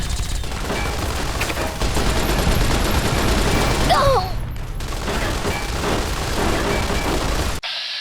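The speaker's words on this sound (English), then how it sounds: "I think I've got a better gun. It's got my submachine gun." Rapid submachine gun fire in the video game Fallout New Vegas, loud dense bursts of shots over a rumbling battle din, with a brief cut near the end.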